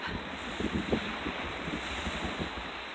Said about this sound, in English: But it is a tad breezy. Really quite breezy.